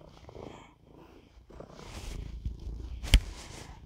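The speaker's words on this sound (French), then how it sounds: "peut-être que vous entendez ronronner, donc c'est mon chat" Close, soft rumbling purr of a cat, continuous and low, with a sharp brief thump near the end.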